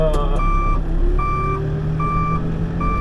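Reversing beeps from a blue dump truck at a footing dig site, a steady two-tone beep repeating about every 0.8 seconds over a continuous low engine rumble.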